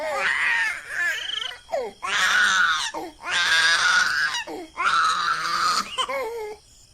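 A baby girl wails in a home courtyard at night, crying in loud, strained bursts with brief gasping pauses between them, close and alone without other sounds.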